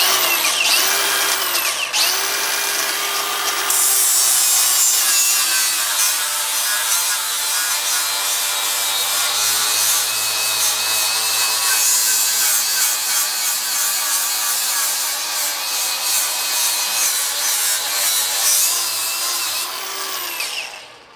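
Milwaukee cordless angle grinder with a Norton Blaze 36-grit wheel grinding hard into metal, a loud, close, sustained high-pitched whine and rasp lasting about twenty seconds before spinning down.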